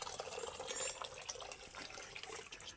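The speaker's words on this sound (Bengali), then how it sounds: "জাস্ট আমগুলো সেদ্ধ হওয়ার মতন করেই জল দিতে হবে" Water pouring into a cooking pot for boiling green mangoes, a steady splashing trickle at close range with no talking.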